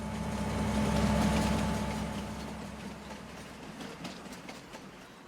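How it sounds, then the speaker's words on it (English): A long custom freight train rolls past on the Ray County, Missouri map in Farming Simulator 25, with a heavy rumble and rhythmic clickety-clack that peaks early and then slowly fades as it moves away. "I see we have a train coming through as well"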